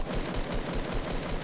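Rapid automatic gunfire from a Fortnite solo match, a steady stream of evenly spaced shots continuing loud and close throughout with no talking.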